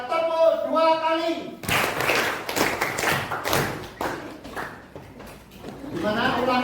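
Group clapping on cue in a classroom session on positive school culture, a burst of close hand claps and taps following a spoken instruction, with talking over and after it.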